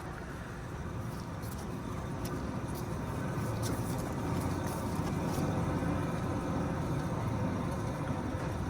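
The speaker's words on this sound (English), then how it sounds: "Listen in on that grinding noise." A worn front wheel bearing on a 2004-2008 Ford F-150 2WD grinds as the wheel spins, a steady low rumbling drone heard close up and alone throughout.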